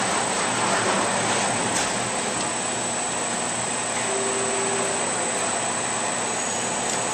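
A lathe spindle runs forward at 800 RPM, producing a constant, even motor whir with a faint high whine, steady and unchanging from start to finish.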